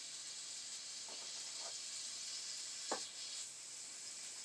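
Sausages brown in a pan for a creamy sausage orzo, giving a steady, quiet sizzle and hiss with a few soft pops and one sharper crackle, no talking.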